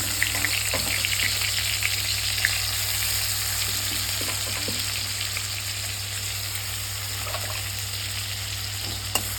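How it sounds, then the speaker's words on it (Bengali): Steady, dense sizzling of onion and ginger frying in hot oil, close and continuous, with a few faint clicks of stirring; nobody speaks. "এটাকে এখন আমি খুব সুন্দর করে ভাজা করে নেব"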